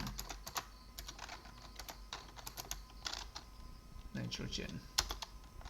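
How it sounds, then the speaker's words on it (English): Keyboard typing during an Arch Linux install, a password entered followed by Y and Enter, with quick clustered clicks and a few sharper keystrokes as someone speaks over them. "Let's type in the password and hit Y and hit enter."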